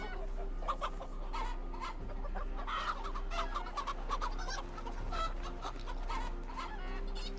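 A chicken in Assassin's Creed Valhalla clucks repeatedly, with several close clucks and squawks spread throughout over a constant background hum.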